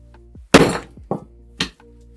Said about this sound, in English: Let's see if we can shatter one.